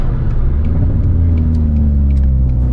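A VW Mk4 Bora wagon with its muffler deleted accelerates down a road, giving a loud, raw, droning exhaust rumble that holds steady and close throughout.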